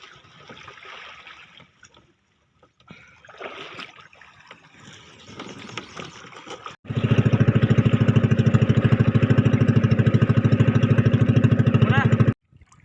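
A fishing boat's engine chugs loudly and steadily with a fast regular beat as it heads out to sea, after a quieter stretch of voices and water sounds.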